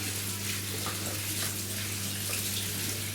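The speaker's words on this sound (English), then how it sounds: "let me just run the hot tap and see what happens now" A hot water tap runs in a steady, unbroken gush of water, loud and close, with a low constant hum beneath it.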